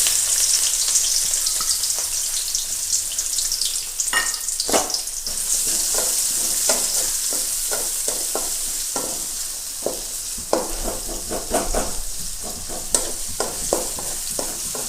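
Three large onions, thinly sliced, frying in hot oil for an egg curry gravy: a continuous bright sizzle with scraping stirs and soft clicks throughout, close and steady, with no voices.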